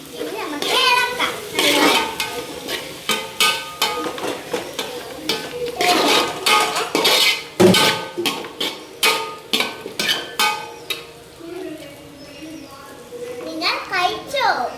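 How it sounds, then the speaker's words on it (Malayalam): Spoon clatters against a pot while chicken curry with tomatoes is stirred, a run of sharp scraping clinks that come in quick succession, with a voice and other talk mixed in throughout. "ഇനി കുറച്ച് തക്കാളി ഇട്ട് ഇനി നമുക്ക് ഇളക്കാം"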